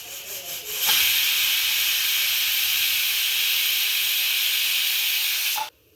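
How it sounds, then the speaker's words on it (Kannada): A pressure cooker cooking chicken gravy vents steam through its whistle, a loud, steady hiss that starts abruptly after a brief quieter lead-in, holds for about five seconds and then cuts off sharply. "ಒಂದು ವಿಷಲ್ ಆಗಿದೆ, ಆಫ್ ಮಾಡಿದ್ದೀನಿ"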